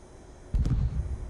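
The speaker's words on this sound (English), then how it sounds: "Okay, they got the sonic boom." A simulated F-14D Super Tomcat sonic boom in Microsoft Flight Simulator 2020: a sudden deep booming burst breaks a quiet low hum partway through, then a loud rumbling tail trails off to the end.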